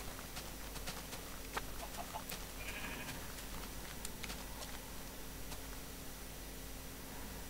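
Sheep bleating in the video game Minecraft, a single brief, faint bleat against a steady low hum of game ambience, with no voices.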